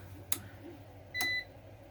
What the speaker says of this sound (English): It's beeping at me